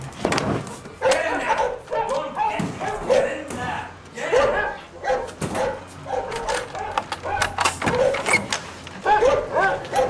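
A dog barks repeatedly in short bursts amid overlapping talk, with some yips and whimpers mixed in at close range.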